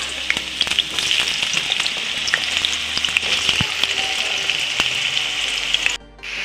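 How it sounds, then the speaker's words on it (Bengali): Potatoes fry steadily in hot oil in a pan for a home-style vegetable curry, a dense continuous sizzle with faint scraping stirs, close and alone until it drops off near the end. "আলুটা একটু ভালো করে ভেজে নেব।"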